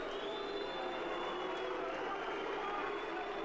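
Steady, dense crowd noise from a Football Manager 2019 match during a penalty shootout, a continuous roar and jeer from the stands with no break throughout.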